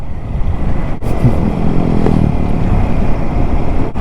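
Royal Enfield Himalayan 450 motorcycle ridden along the Spiti River in the Himalayas, a steady loud engine drone with wind rush and road rumble, no talk.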